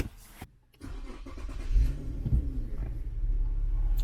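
A 2008-2013 Infiniti FX engine cranks and starts, a brief click then a rising mechanical whir that settles into a steady low idle, heard up close.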